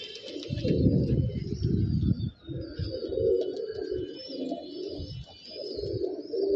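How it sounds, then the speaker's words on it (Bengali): Giribaz pigeons at a home loft coo in low, throaty rolling phrases that repeat steadily and sit close by, with faint higher chirps above. "আমার বাসার কিছু কবুতর আপনাদেরকে দেখাবো"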